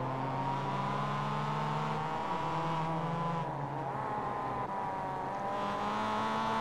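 Mazda Miata race cars lapping Summit Point in a racing simulator, a continuous engine tone that rises and falls as gears change, with a faint tire squeal and no voices.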